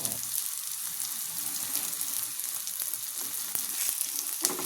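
Onions sizzling steadily in hot oil in a pan as the base for a fish bhuna, a close, continuous crackling fry with faint stirring clicks and no voices.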